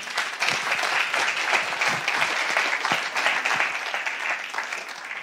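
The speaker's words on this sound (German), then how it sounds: "Einen herzlichen Applaus bitte." A conference audience claps in sustained, dense applause, steady and fairly loud throughout, with no speech over it.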